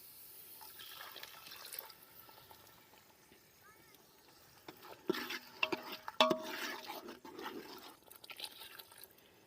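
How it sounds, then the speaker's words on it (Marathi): Broth pours and splashes into a pot of village-style chicken curry, followed by clinking stirring and scraping, fairly quiet with a faint voice in the background. "मी याने रस्सा घालून ह्याला थोडीसं चांगली उकळी आणून देते"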